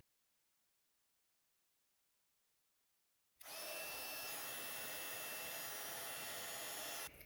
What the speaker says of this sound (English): So I'm going to heat emboss that in white at the bottom of this panel.